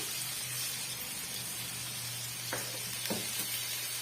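Aval lemon mixture with a splash of added water bubbling in a pan, a faint steady sizzle and soft simmering hiss with a couple of brief sharper crackles.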